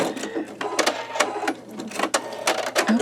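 An embroidery machine fitted with a MagnaHoop magnetic hoop works satin stitching, giving a close, steady run of rapid needle taps with sharper clicks at irregular intervals.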